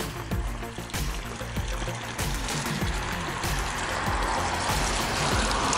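Cold spring water runs steadily from a roadside spring on a road near Isparta, a continuous splashing trickle that stays close and fairly loud throughout, with faint irregular knocks underneath.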